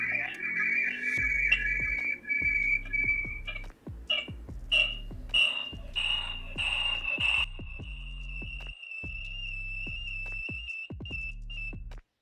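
A V380 Q20 smart camera sounds its alarm: a continuous high electronic whistle tone broken by repeated beeps and pulsing bursts, loud and close, with no one talking.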